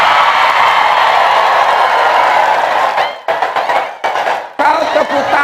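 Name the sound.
audience clapping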